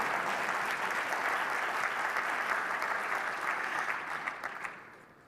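Sustained applause from a large summit audience, steady and dense for several seconds before tapering off at the end.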